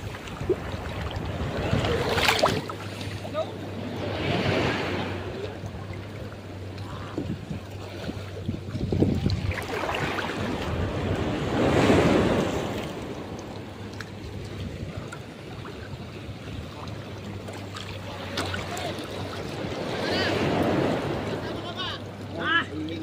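Big sea waves slapping and rushing around a small fishing boat out at sea, surging swells of water noise rising and falling over a steady engine hum and wind buffeting the microphone, with people talking over it now and then.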